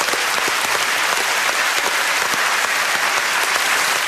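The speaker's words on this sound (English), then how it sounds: "Let's give him a round of applause." A studio audience on the panel show QI breaks into loud, sustained applause, a dense, even roar of many hands clapping with no talk over it.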